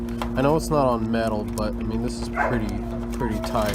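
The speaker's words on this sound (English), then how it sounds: "Sorry about the dogs in the back." Dogs bark and yip repeatedly in the background while someone talks steadily over them in a garage beside a G35 project car.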